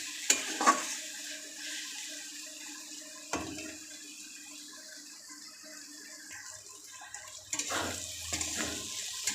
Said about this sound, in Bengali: এটা নেড়ে নেড়েই করতে হবে